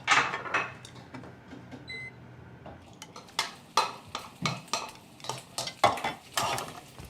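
Leftover food is reheated in a cooking pot on a stove, with a series of sharp clanks and scrapes of a utensil stirring against the metal pot. Short quiet gaps separate the clattering.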